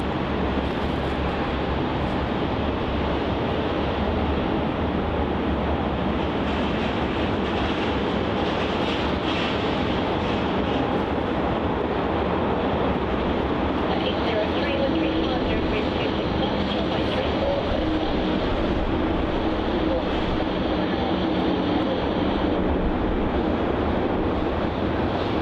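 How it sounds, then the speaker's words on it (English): Air New Zealand Airbus A320neo taking off from Melbourne Airport toward Queenstown, a sustained broad jet roar heard from a distance, steady and rising slightly in intensity over the whole stretch, with wind rumble on the microphone. "Departing now off Taxiway Juliet, we're going to have that Air New Zealand A320 Neo going off to Queenstown"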